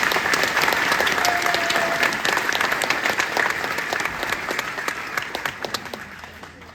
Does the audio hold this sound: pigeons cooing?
no